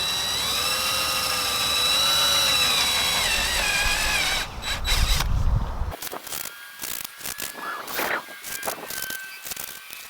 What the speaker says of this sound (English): let's just go ahead and drill some holes.